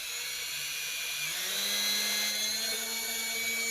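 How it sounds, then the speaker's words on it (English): A power drill whines steadily at close range while boring into material, its pitch shifting slightly as it bites in. "And then I'm just going to drill the hole down the center."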